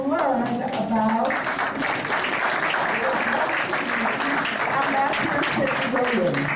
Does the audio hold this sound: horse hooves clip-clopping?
no